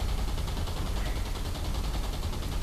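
Gunfire in the video game War Thunder: rapid, dense bursts of shots hammering continuously at close range, loud and unbroken across the moment, with no voices over it.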